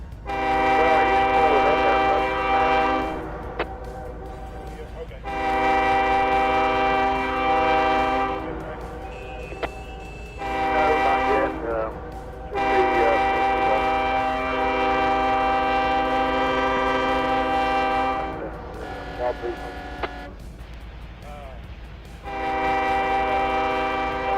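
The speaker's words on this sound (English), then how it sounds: "Now that is a 3-part done right." A three-chime locomotive horn blares in the Trainz railroad simulator game: a loud sequence of long and short chord blasts, echoing between pauses, above the continuous low rumble of the moving train.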